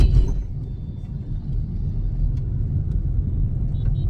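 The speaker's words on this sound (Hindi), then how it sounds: "अंश बाबू अंश चला रहा है गाड़ी" A car drives along the road on a family trip, with a steady, close low rumble of engine and tyres lasting several seconds. No one speaks over it.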